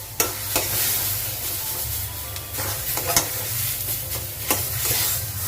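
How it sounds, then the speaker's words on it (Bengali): Lentil paste being stirred and fried in a kadai, with a continuous low sizzle and repeated sharp scrapes and knocks of the spatula against the pan at an uneven pace, close by. "এই ডালটাকে এবার আমি কড়াইয়ের মধ্যে নাড়াচাড়া করবো।"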